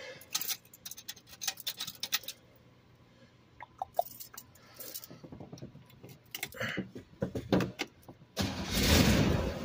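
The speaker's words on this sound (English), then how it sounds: "But I'll fire this car up real quick" A 1966 Corvette engine starting: clicking and ticking, then a starter cranking in bursts before the engine catches and settles into a loud, rough idle rumble at close range.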